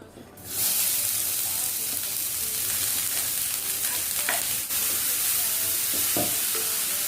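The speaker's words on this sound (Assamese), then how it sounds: "এই শুকান মছলাখিনি যে সেইখিনিও ভাজি থাকিম ধুনীয়া গোন্ধ এটা অহালৈকে" Dry spices and mixed vegetables fry in a pan on low gas, starting with a sudden sizzle that holds as a steady hiss, broken by scattered scraping and stirring sounds.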